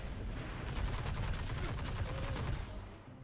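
Rapid bursts of exotic-weapon gunfire from the Destiny video game pound continuously in a dense, fairly quiet barrage, tapering off near the end.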